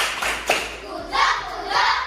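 A class of primary schoolchildren claps together in a short rhythmic pattern of claps, close and fairly loud, with a few faint young voices mixed in.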